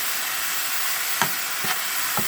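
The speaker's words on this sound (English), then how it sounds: "Cook it down until all the meat is cooked, so you don't see no pink in it or red." Meat fries in a pan as filling for Lao spring rolls, a steady close sizzle with three soft stirring scrapes spaced about half a second apart.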